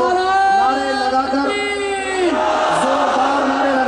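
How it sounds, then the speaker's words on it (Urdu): A large crowd at a Deobandi religious gathering shouts slogans in unison to welcome a speaker. Loud, sustained massed voices rise and fall in pitch across a few long calls. "زوردار نعرے لگا کر ایک قائد کی حیثیت سے ان کا استقبال کیجئے"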